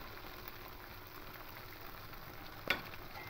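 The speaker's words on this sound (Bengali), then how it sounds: "টক দই, এবার দইটা দিয়ে দেবো।" Sour yogurt goes into frying paneer rezala masala in a pan, a steady low sizzle broken near the end by one brief splattering burst, no voices.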